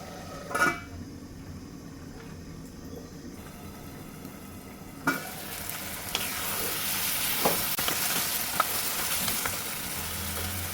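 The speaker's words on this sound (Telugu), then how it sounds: "కింద అడుగు అంటకుండా మధ్య మధ్యలో ఇలా ఒక్కొక్క మిక్స్ ఇచ్చేసుకుంటూ ఉండాలి." Red chilli chicken curry gravy stirred and sizzling in a pan, a steady frying hiss rising in the second half with scattered scraping stirs and a few sharp clinks of the spoon against the pan, no talking.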